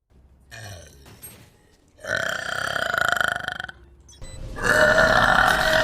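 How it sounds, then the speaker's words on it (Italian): Loud, drawn-out belches from a man in a livestream setting, three throaty bursts in a row, each longer and louder than the last, the final one the strongest and closest. "Ma sei appena ruttato."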